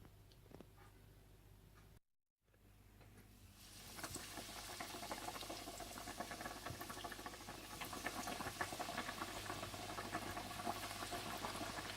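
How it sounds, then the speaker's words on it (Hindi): Fish sizzles as it fries in hot oil, a dense crackling patter that starts quieter, breaks off briefly, then grows louder and steadier until the end, with no voices. "आप तेल को गर्म कर लीजिएगा और फिश को खूबसूरत सा गोल्डन ब्राउन करते जाइएगा"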